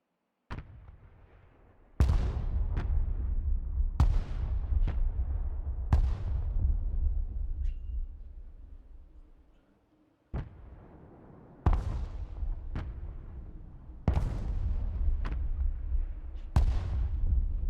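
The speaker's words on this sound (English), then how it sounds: "This is our point barrage. That's 3 shots." Artillery point barrage in the video game Broken Arrow: a series of sharp, loud booms, each trailing into a rumbling decay, arriving in irregular groups over a low background with no talk.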